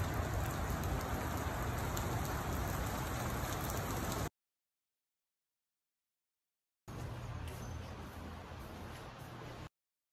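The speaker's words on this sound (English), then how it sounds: "It's raining and it's getting dark." Steady, close rain falling outside a car while a cable technician works through a dark evening, a dense broadband wash that breaks off into silence midway before resuming just as heavily for a few seconds.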